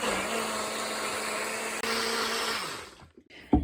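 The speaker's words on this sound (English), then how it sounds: "I'm just using my NutriBullet. Then I'm going to blend it." A NutriBullet blender whirs loudly and steadily as it blends chickpea flour and water, a brief dip midway, then winds down and stops with a small clunk at the end.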